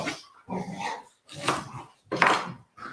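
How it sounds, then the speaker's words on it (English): Several household dogs barking and fussing indoors, repeated rough barks and grumbles in uneven bursts with short gaps, close and fairly loud. "Can you hear all of that Okay. fuss from the dogs?"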